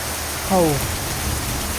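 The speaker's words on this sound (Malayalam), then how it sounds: "ഇപ്പോൾ ഇങ്ങനെ ഒരു മഴ ഇവിടെ ഏറ്റവും അത്യാവശ്യമാണ്" Steady rain hiss in Sigiriya, Sri Lanka, fills the clip from start to finish, with a brief voice-like tonal sound rising near the beginning.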